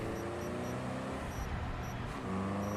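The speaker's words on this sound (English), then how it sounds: "I could just hear a car" A car engine in the video game Cyberpunk 2077 hums low and steady, faint and continuous throughout, with a slight swell toward the end.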